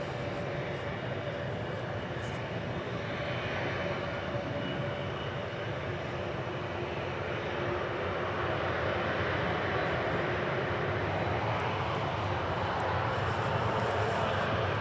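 An Air Canada airliner lines up at DFW for takeoff to Toronto, its jet engines producing a steady, broad, moderately distant roar that holds without a break from start to finish.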